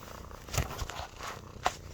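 A cat purring close by, a soft low rumbling with a couple of brief rustling bumps, short and fairly quiet.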